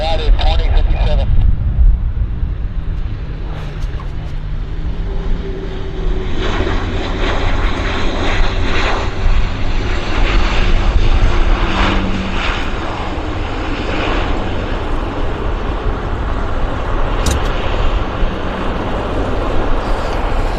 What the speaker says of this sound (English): Looks like a King Air, Medevac.